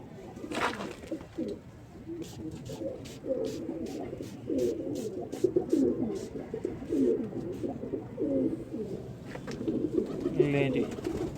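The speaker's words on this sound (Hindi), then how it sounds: "बाकी ये कबूतर" Pigeons, flying breed kept in a loft, coo steadily and repeatedly in a low rumbling chorus close by, with brief wing flutters and someone talking at times over them.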